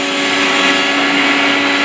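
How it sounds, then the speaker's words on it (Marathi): A kitchen mixer grinder chopping coriander whirs loudly and steadily at close range, a continuous high motor whine with no pauses. "मिक्सरचा आवाज"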